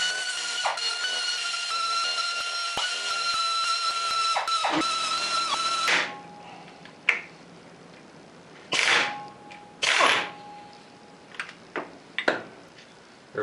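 A power tool spins out four 10mm clutch pressure plate bolts, first with a long steady high whine and then in short separate bursts with sharp clicks and clanks of metal between them.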